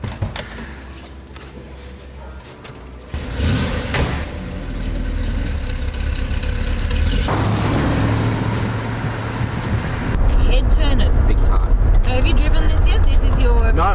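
A 1966 Chevrolet Corvette Stingray drives along, its engine a steady low rumble that builds and grows louder toward the end, with cabin road noise and people talking over it.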